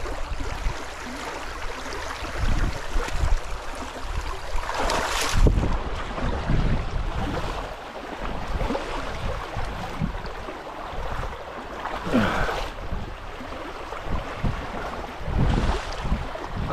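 Water pours over a beaver dam in a steady outdoor rush, with wind buffeting the microphone and occasional louder splashes and bumps up close.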